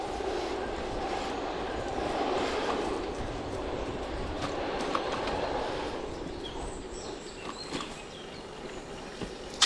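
A regional train running from Bremerhaven to Buxtehude rolls past at a distance, a steady low rumble of rail noise that slowly fades, with faint birdsong over it.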